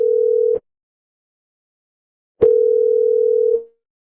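A steady telephone tone sounds, breaks off into silence for nearly two seconds, then returns for another second before stopping; clean and loud.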